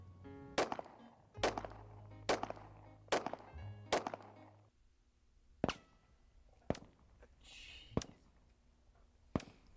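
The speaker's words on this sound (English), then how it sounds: "Fire. All right, Glock 17. Go 5 rounds." Glock 17 pistol firing five rounds outdoors, each shot a sharp, loud crack spaced about a second apart, the reports echoing briefly, followed by several more separate distant-sounding bangs at slower intervals.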